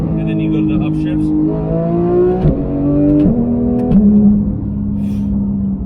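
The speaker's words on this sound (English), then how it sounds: "you hear how fast that thing downshifts, and then you go to the upshifts" A Porsche GT3 engine revs loud and close, its pitch climbing and then stepping sharply through rapid downshifts and upshifts, with short throttle blips between the gear changes.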